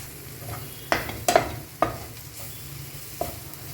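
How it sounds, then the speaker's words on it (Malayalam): A spoon stirs and scrapes a pan of mushrooms sautéing with turmeric, chili powder and coriander powder for kadai mushroom. A handful of distinct scraping strokes sound over a faint, steady sizzle. "നന്നായിട്ടൊന്ന് നമുക്ക് വഴറ്റി കൊടുക്കാം."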